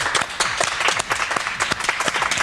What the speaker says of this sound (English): if you believe in Yuna, clap your hands